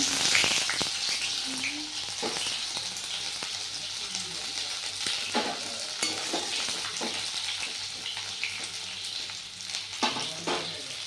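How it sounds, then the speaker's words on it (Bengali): Cauliflower pieces fry in hot oil in a kadai, a steady bright sizzle running throughout with occasional scraping stir clicks from a utensil. "এখন আমি ফুলকপিটা দিয়ে দিলাম কড়াইতে"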